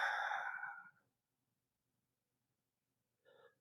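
A single long breath is pushed out audibly during a Pilates core exercise, a breathy whoosh that fades after about a second, followed by quiet and then a brief second breath sound.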